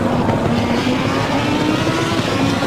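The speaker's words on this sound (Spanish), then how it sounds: "Me encanta el sonido del coche. Es tremendo." Race car engine in the Assetto Corsa Competizione video game, a steady loud droning roar with a sustained tone holding through the passage, no talk over it.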